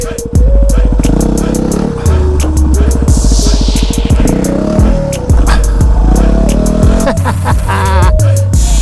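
A Yamaha WR250R motorcycle engine revs up and drops repeatedly during slow wheelie attempts, loud and close, with uneven throttle bursts and brief pauses between pulls.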